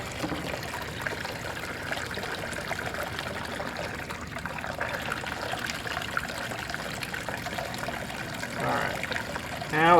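Water runs steadily down a sluice turned up to full flow, carrying ground IC-chip material for gold and silver recovery, a continuous trickling rush that grows a little louder toward the end.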